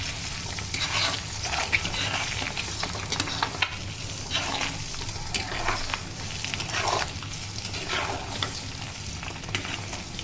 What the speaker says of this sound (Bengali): ডিমগুলো ভাজা হয়ে আসছে প্রায়।